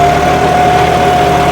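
John Deere 5210 tractor engine running in first C gear around 1600 rpm, a loud steady drone with a constant whine, close and unbroken.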